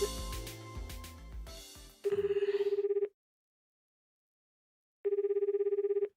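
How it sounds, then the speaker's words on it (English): A phone call ringing in the visual novel 9-Nine: two steady electronic ring bursts, each about a second long, separated by silence, following a short stretch of game sound. "The ringing noise continues."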